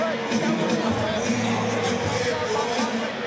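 An excited crowd at the BYB 23 Brawl in the Pines fight, a steady, dense roar of cheering and babble filling the arena without pause, loud and close.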